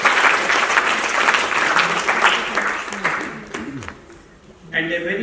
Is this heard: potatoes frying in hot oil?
no